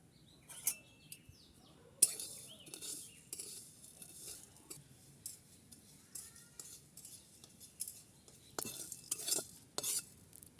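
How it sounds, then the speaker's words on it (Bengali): Black pepper, coriander and cumin dry-roast together in a wok in a village kitchen, heard as sparse scraping and metallic stirring clinks against a quiet background, with occasional louder rattles. "এরপর এর মধ্যে আমি মশলাগুলো দিয়ে ভেজে নেব।"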